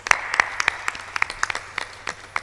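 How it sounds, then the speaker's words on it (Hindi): A few audience members at a spiritual discourse give thin, scattered hand claps, about a dozen separate sharp claps spaced unevenly rather than a full round of applause. "ये ताली कमजोर है।"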